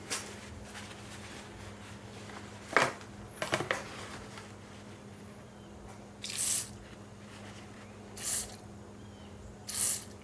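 Short bursts of lubricant spray hiss close by at intervals, a few seconds apart, into a Kawasaki Z900 clutch cable, with small clicks and taps in between and no talking.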